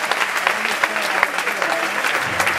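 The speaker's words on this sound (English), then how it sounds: "Please clap for yourself." Steady applause from a church congregation, many hands clapping together at close range, with a voice speaking over it.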